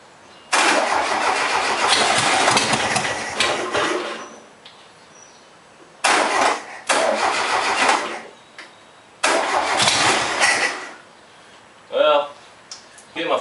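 A sandrail's new engine cranks and fires, then runs loud and rough in three bursts of several seconds each, dropping off between them, with a short sputtering catch near the end.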